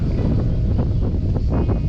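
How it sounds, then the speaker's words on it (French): Steady wind buffets the microphone on a bike ride in the Gorges du Gardon near Collias, France, a constant low rumble with faint gusty swells, close and loud with no talking. "le vent il se lève."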